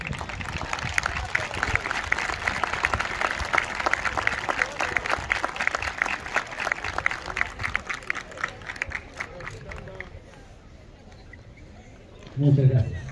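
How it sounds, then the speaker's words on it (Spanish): A crowd at a drum-and-bugle band award ceremony in Coinco applauds with sustained, dense clapping for several seconds before it thins out and stops, followed by a short thump. "Vamos a brindar un fuerte aplauso."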